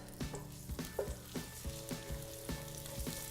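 Garlic and shallots frying in olive oil in a pan, a steady close sizzle broken by repeated soft knocks of stirring at an uneven rhythm, with no voices.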